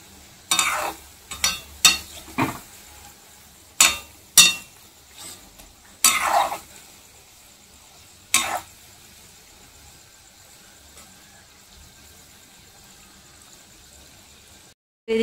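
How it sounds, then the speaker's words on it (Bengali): Food frying in a pan at home, with pieces cooked batch by batch, gives a faint steady sizzle under a run of sharp utensil clatters and scrapes early on, then mostly quiet frying with one more knock. "একে একে সবগুলো ভাজা করে নেব।"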